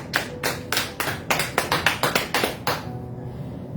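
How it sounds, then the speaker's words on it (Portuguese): A church congregation applauds during a Portuguese-language worship service, with a burst of sharp, irregular claps that rises and then tapers off over a few seconds, loud and close with no talk. "Aplauda o Senhor."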